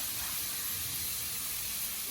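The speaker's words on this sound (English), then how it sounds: "we're gonna throw this bacon on. Hear it sizzle?" Bacon sizzles in a hot skillet, a close, steady, dense hiss and crackle with no pauses.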